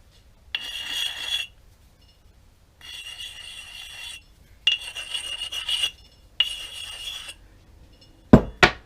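A sharpening stone rasps along a steel axe head in four separate strokes, each a gritty scrape of about a second with short pauses between, followed by a sharp metallic clink at the end.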